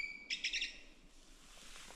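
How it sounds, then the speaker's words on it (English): Small birds chirping at a snowy winter campsite, a quick burst of several bright tweets close by, then quiet outdoor air. "Can hear some birds."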